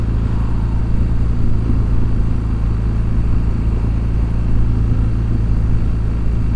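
2007 BMW 1200GS motorcycle being ridden: steady, loud low engine drone with rumbling wind noise throughout, heard from on the bike, no talking.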